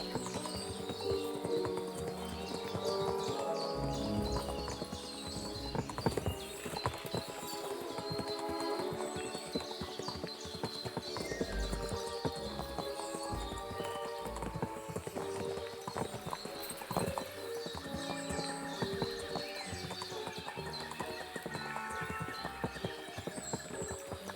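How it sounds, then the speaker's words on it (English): Horse hooves clip-clop on a road in Kingdom Come: Deliverance 2, a steady rhythm of hoofbeats under a busy medieval game soundscape with background music. "Watch out with that horse!"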